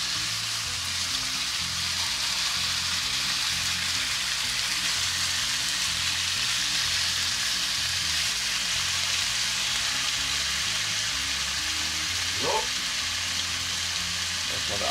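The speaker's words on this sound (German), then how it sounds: "Wir braten jetzt unser Hähnchenfleisch ganz scharf an." Chicken meat searing in a very hot pan, a loud, steady, hissing sizzle that holds evenly throughout, with a faint low hum beneath and one brief clink near the end.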